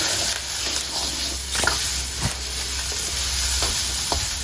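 Rice with salted fish sizzles loudly in a wok over high heat, a steady hiss broken by occasional scrapes and tosses of a spatula.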